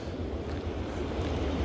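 Rough, fast river current below a dam with water being released, a steady broadband rush and roar with wind-like noise outdoors.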